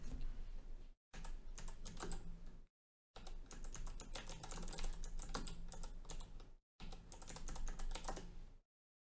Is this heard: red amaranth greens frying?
no